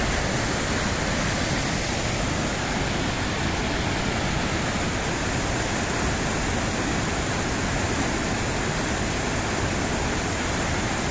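A dense, unbroken roar of a mountain waterfall in Velká Studená dolina, Slovakia, fills everything, loud and constant without any pause.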